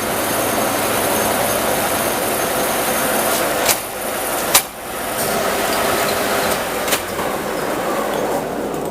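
A milling cutter fitted with ten T5K10 carbide inserts without chipbreakers cuts into metal, giving a steady, loud, dense grinding roar with a few sharp ticks and knocks and no talk.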